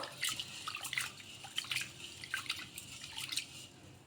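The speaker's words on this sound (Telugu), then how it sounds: "ఇలా ఈ బియ్యాన్ని ఒక 2 సార్లు అయితే బాగా కడిగేసుకుందాము." Rice is washed by hand in a bowl of water, with faint irregular splashes and drips, soft sloshing and small clinks, heard close.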